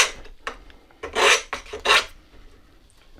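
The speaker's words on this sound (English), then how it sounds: "just going to take a round file and deburr inside" A round file rasps inside the freshly cut end of a bicycle steerer tube to deburr it, giving a few short scraping strokes and two longer, louder ones close up with no talking.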